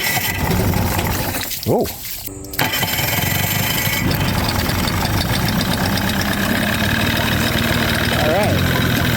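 An old outboard motor on a DIY stand is primed and choked, then cranks with a brief pull-start burst, catches and settles into a steady, close, slightly rough idle; a person briefly exclaims.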